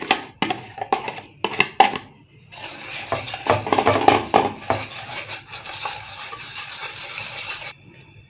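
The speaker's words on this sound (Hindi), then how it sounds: "बेसन को हमने छान लिया है और दही को इसमें डाल के इसको हमने मिक्स करना है" Gram flour and yogurt batter being mixed in a pot for pakora kadhi, with close, irregular scraping and clinking of a utensil against the metal, in bursts and then steady stirring, with no talk.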